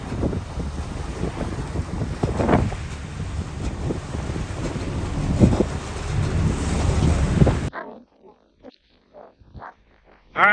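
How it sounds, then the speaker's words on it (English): Strong 25-knot wind buffets a sailboat under way off Miami Beach, giving a loud, gusty rush of wind noise over the microphone with water sounds beneath, then a sudden drop to near quiet. "Probably hear the wind. It's kicked up to 25 knots."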